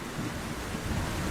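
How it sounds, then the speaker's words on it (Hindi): Heavy rain in a cartoon, a dense, steady roar of broadband noise with low rumbling swells, loud and continuous, with no voices. "रात भर तेज बारिश चलती रही।"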